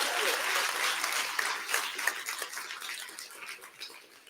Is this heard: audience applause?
yes